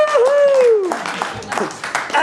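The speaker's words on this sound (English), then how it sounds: "Give me a round of applause, folks!" Studio audience applauding with cheers and whoops, a dense spread of clapping mixed with a loud shouting voice, close and lively.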